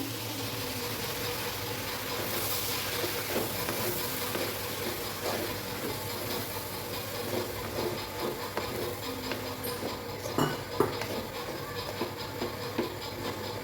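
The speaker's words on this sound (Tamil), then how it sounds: "இந்த ஸ்டேஜில் நான் கத்திரிக்காய் போட்டுக்கிறேன்" Sliced eggplant goes into a pan of potatoes already half softened in oil, and a steady frying sizzle follows with scattered stirring scrapes and a few louder clatters of pieces landing close by.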